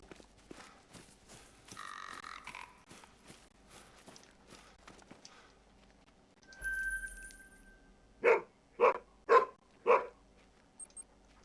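A hunting dog in a whitetail hunting video game gives four evenly spaced barks near the end, after footsteps, a brief chirp and a low thud.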